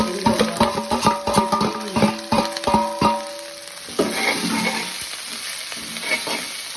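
Carrot, leek, onion and green chilli go into a pan for bread kottu, with rapid rhythmic clanks of a spatula against the pan at first, then a softer steady sizzle and occasional scraping once the stirring stops.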